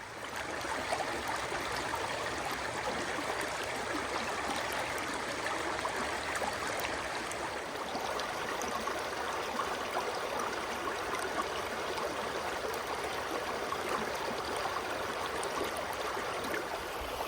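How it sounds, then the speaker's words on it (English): Water in Coweeta Creek at a private campground rushes over rocks in a loud, steady, unbroken hiss and roar, with a continuous rumble and no let-up or voices. "all you hear is that rushing water going over the rocks"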